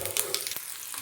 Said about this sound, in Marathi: तवा आपला हा तापलेला आहे. त्यात आता आपल्याला थोडंसं जिरं टाकायचं आहे